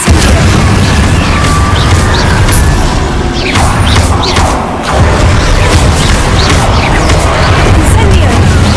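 Incendio fire spell cast in the Hogwarts Legacy video game, a loud burst of booming, crackling blasts amid ongoing combat effects, briefly dipping midway before surging again.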